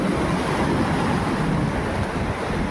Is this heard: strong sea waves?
yes